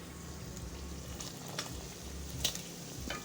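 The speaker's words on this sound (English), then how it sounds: "so let me continue to stir" Pilau being stirred in a pot after salt goes in, a steady soft sizzle and bubbling with a few faint scraping clicks from the spoon.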